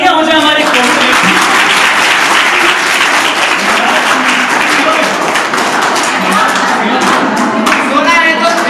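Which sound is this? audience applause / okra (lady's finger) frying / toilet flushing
audience applause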